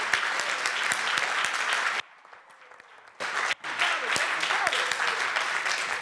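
Sustained audience clapping at a community gathering on rescuing children from violence, a thick, even roar that drops away abruptly for about a second before the crowd picks it back up just as strongly.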